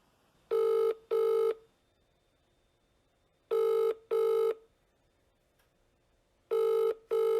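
Telephone ringing at the start of a recorded phone call in India: three clear double-ring bursts spaced a few seconds apart, loud and alone with quiet gaps between.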